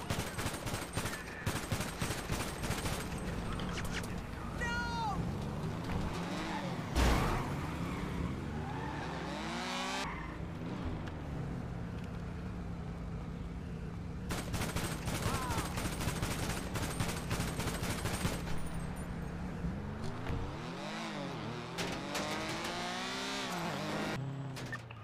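Rapid bursts of gunfire crackle over a constant engine drone, with tires squealing at times during a fast-paced 5v5 fight on Olympic Freeway in the game Rust.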